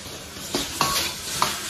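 Fish pieces sizzle in a hot wok, broken by a few scraping ladle strokes that nudge them around, a steady frying hiss close by with no talk.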